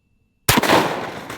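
A single loud, close shot from a 45-70 double barrel rifle firing a 430 grain hard cast bullet at a target block, a sharp crack followed by a fading boom after silence.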